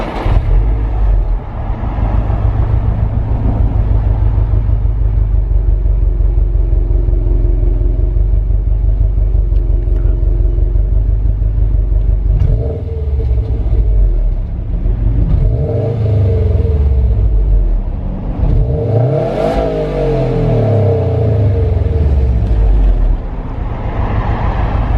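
A Subaru STI with its stock exhaust drives and accelerates, a steady loud engine rumble rising and falling through repeated revving pulls and gear changes, heard close up from inside the car with no talk.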